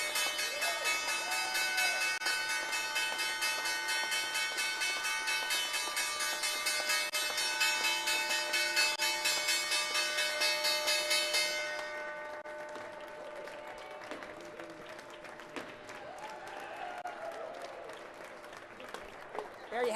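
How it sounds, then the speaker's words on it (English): A stock exchange closing bell rings in a long, sustained metallic peal over steady crowd applause, then stops, leaving the cheering and clapping to carry on more quietly. "There you have it with the 3 gavel strikes."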